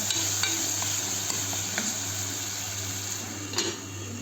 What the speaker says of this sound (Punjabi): ਵਿੱਚ ਵਿੱਚ ਪਿਆਜ਼ਾਂ ਨੂੰ ਹਿਲਾਉਂਦੇ ਰਹਿਣਾ ਆ ਚੰਗੀ ਤਰ੍ਹਾਂ